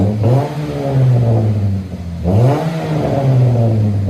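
A 2009 Chevy Cobalt with a 2.2L engine and an HKS muffler revs twice, each pull rising to a loud droning exhaust tone near the car, with a brief dip between the revs.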